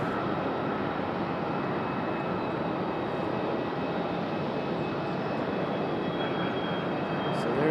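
A Southwest airliner on approach to Raleigh-Durham airport gives a steady, broad jet-engine roar at moderate distance, holding an even level throughout with no voices.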